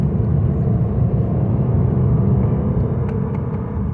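A 2017 Lexus GS350 engine drones loudly and steadily from inside the cabin during driving, a continuous low rumble through an upshift with no talking.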